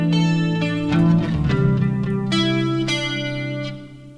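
An electric guitar plays barre-chord shapes, with several strummed chords ringing and sustaining up close, loud and alone with no voice.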